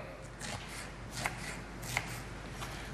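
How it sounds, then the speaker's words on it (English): A knife chops an onion into smaller pieces on a board, giving a few soft, quick cuts with two sharper taps, close and quiet. "My onion, I'm just going to cut it a little smaller."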